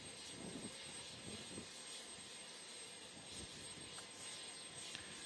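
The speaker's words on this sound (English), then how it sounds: "Helicopter bringing President Trump out." A Navy helicopter carrying the president approaches to land on a ship's deck at a Navy 250th anniversary celebration, heard as a steady, distant engine and rotor rumble that continues without talk.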